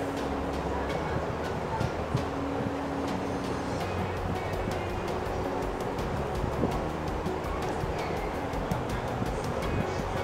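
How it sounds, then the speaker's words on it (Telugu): A mixer grinder whirs steadily as it grinds coconut pieces and poppy seeds with a little water, a loud continuous motor drone holding throughout with no talking. "కొద్దిగా వాటర్ పోసుకొని మళ్ళొకసారి గ్రైండ్ చేసుకోవాలి"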